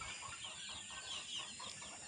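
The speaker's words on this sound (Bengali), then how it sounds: "এই যে দেখেন আমার দেশি মুরগির বাচ্চাগুলো" Young two-month-old desi chicks kept together on a veranda give soft, continuous clucking and peeping calls, faint and steady throughout, with no talking.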